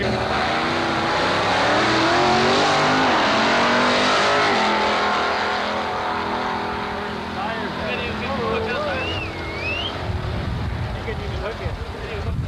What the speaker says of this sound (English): the Willys hooks it up and powers to an 1138 win